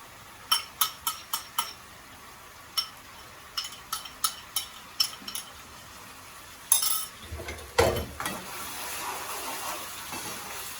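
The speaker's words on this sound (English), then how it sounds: "try to fry for like 15 minutes" Tomato sauce for a Nigerian stew goes into a hot pot: a run of quick spoon taps and scrapes against the metal, then a softer, steady sizzle as it fries.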